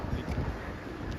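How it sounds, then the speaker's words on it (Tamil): Strong wind gusting across an open building site in Tambaram, Chennai, heard as a close, rumbling buffeting against the microphone with no voices. "காற்று எவ்வளோ சூப்பராக அடிக்குது."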